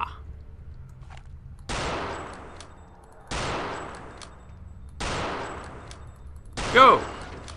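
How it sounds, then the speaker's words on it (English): Sniper rifle shots in Return to Castle Wolfenstein, four loud sharp blasts spaced about 1.5 seconds apart, each with a decaying tail, over a low game ambience, the last shot overlapped by a brief voice. "Sniper rifle seems to work well against those things"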